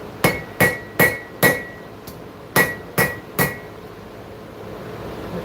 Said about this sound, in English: Go to the rounding hammer again.